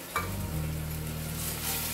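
A pan of curry sizzles quietly while it is stirred, a brief scrape followed by steady frying hiss.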